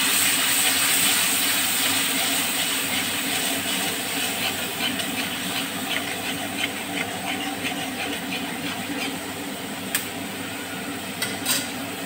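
Papaya curry with whisked sour yogurt and slit green chillies is stirred in a pan, a continuous loud hiss and bubbling with soft spoon scrapes and a couple of clicks near the end.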